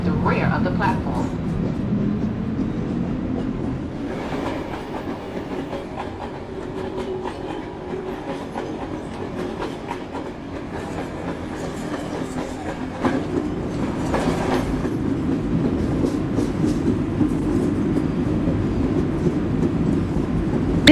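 An R142A New York City subway 1 train rolls into a station with a steady rumble and clickety-clack of wheels on rail, loud and continuous throughout, with automated announcement voices speaking over it.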